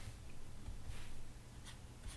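Colored pencil shading across paper, adding light yellowish tones to a drawing, heard as a soft, close, continuous scratchy rasp with a few brief stroke accents and no talk.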